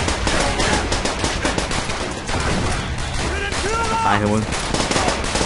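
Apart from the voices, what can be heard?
gunfire, from video game Call of Duty World at War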